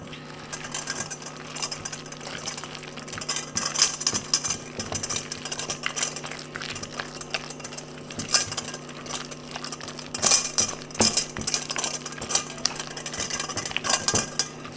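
A utensil stirs low-carb jalapeño popper cloud bread batter in a bowl just after baking powder goes in, making a steady, close scraping and clinking that runs throughout with occasional sharper taps against the bowl.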